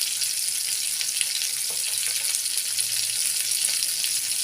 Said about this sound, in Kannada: ನೋಡಿ ಚೆನ್ನಾಗಿ ಫ್ರೈ ಆಗಲಿ.